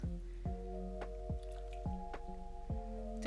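A hair frontal being dipped into a container of water mixed with dye, giving a series of soft, evenly spaced drips and wet plops, close and quiet, with no talking.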